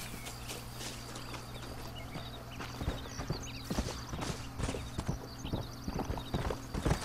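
A horse's hooves clip-clop steadily in Red Dead Redemption, a rhythmic series of close, clear hoofbeats that quicken and grow louder over a low background hum, with no speech.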